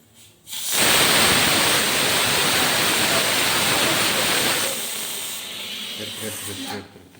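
A kitchen pressure cooker releases steam in a loud, close, continuous hiss that starts abruptly, holds steady for about four seconds, then drops to a softer lingering sputter.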